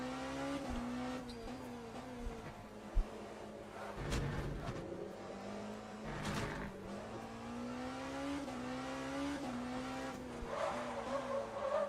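Race car tires squeal in long, wavering whines over a droning engine in the racing game Le Mans Ultimate, fairly faint, with a few sharp skid bursts and no talking.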